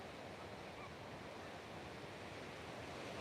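Ocean waves roll steadily onto a beach at oceanfront Pacific Beach, a continuous broad wash of surf with wind.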